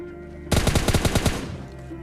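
A rapid, loud burst of automatic gunfire in the mobile game PUBG Mobile Lite, about nine evenly spaced shots in just over a second, followed by a quieter tail.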